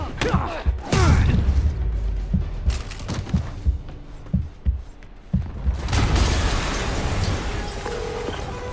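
Explosions burst in the video game Marvel's Spider-Man, a loud boom at the start followed by a string of sharp thuds and rumbles, with another heavy blast near the end.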